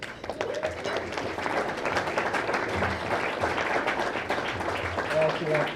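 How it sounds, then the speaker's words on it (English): Steady applause from an audience at a high school award ceremony honoring an assistant coach, a continuous dense patter of clapping with voices murmuring beneath it. "let's give Kevin Dayhill a nice big round of applause"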